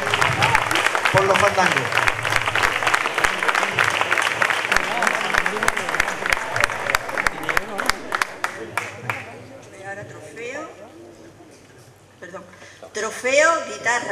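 At the final of a flamenco contest in Sanlúcar, an audience applauds an award winner, dense clapping that thins into scattered claps while an announcer speaks over it, with further talking after the clapping fades.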